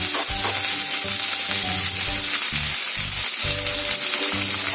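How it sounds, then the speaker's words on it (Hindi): Okra fries with green and red chillies in a pan at medium heat, giving a loud continuous sizzle with bursts of crackling and stirring throughout. "इसे 2 से 3 मिनट के लिए किसी मीडियम टेम्परेचर पर हम लोग फ्राई करेंगे।"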